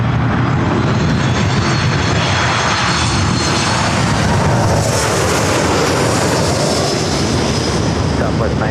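A Sunwing jet airliner at LAX fills the scene with a loud, continuous engine roar that swells and shifts in pitch as it passes close by, dense and unbroken throughout.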